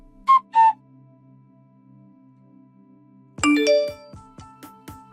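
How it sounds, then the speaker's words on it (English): A phone ringing sound effect: two short whistled tones, a pause, then a bright, near chiming ringtone melody with a few quick tinkling notes. "Hey, pick up your phone!"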